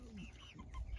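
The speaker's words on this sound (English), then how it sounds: "probably, I've got like 21 chickens" Chickens on a small homestead flock cluck in a brief close burst of a few soft, throaty calls over quiet background.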